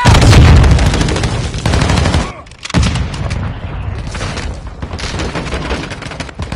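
Video game combat with a frag grenade blast and gunfire: a loud booming explosion at the start, then dense bursts of rapid shots and sharp reports with a brief lull, close and intense.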